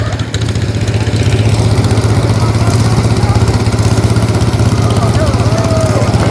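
A riding lawn mower engine drones steadily and loudly, a constant mid-pitched chug under strain while pulling a 1,400-pound weighted sled, with no clear speech.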